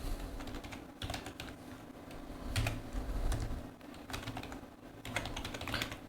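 Someone types on a computer keyboard in quick, uneven bursts of close keystrokes, with short pauses between runs of clicks against faint background hum.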